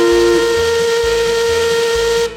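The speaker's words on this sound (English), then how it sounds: "the mills are just blowing the whistles in return" A lumber mill's steam whistle blows loudly and steadily for a couple of seconds with a strong tonal drone, then cuts off abruptly.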